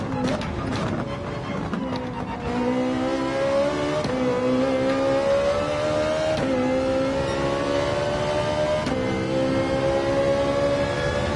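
Race car engine in Gran Turismo 7 on the Daytona Road Course, a loud, sustained high-pitched engine whine climbing steadily in pitch through the gears with brief drops at each shift.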